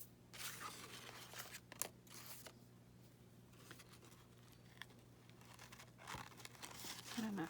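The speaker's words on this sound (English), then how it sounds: "So we'll just cut it, and it cuts super easy." Scissors snip through glitter tulle for scrapbooking, giving a few quiet close cuts with crinkly rustling of the stiff netting between them, and a brief louder scrape near the end.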